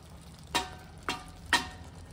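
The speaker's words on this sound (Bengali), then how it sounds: "এটা জাস্ট একটু নেড়ে নিই।" A fried spice mix is stirred in a pan, three quick scraping strokes about half a second apart, faint and close over a quiet low hum.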